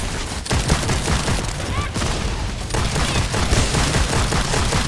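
In a free-to-play shooter boss fight, gunfire dense and loud hammers at the boss's shields in rapid, continuous bursts, with a voice partly mixed under the shooting.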